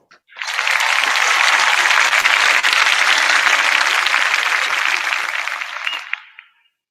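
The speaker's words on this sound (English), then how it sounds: "Please give a big round of applause to Kranji Secondary School of Singapore." Applause at an award ceremony: a burst of dense clapping from an audience that swells quickly, stays loud and steady for several seconds, then tapers off to silence.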